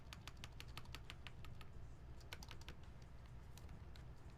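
Keys clack on a mechanical keyboard with rattly switches, a quick, uneven series of crisp, close clicks, faint overall with a low steady hum underneath.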